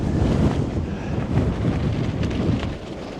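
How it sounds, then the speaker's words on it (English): Strong gusting wind on a mountain trail roars in a dense, rumbling buffet against the microphone, rising and falling in gusts throughout with no voices. "Wind's kicking. Feels like it's pretty steady at about 25, gusting."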